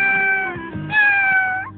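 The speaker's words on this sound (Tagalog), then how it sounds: "Aba, may iniwang pusa." A cartoon cat in Doraemon gives two long, clear, high meows in quick succession, close and loud, with no talking over them.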